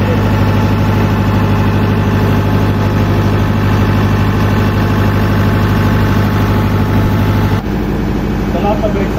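A generator set's engine idles loudly nearby with a steady low drone and constant mechanical hum, keeping an even level throughout, its tone shifting slightly near the end.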